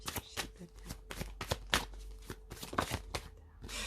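Angel oracle cards being shuffled and drawn by hand: a series of quick, crisp riffling slaps and flicks in an irregular rhythm, close and fairly quiet, with no talk.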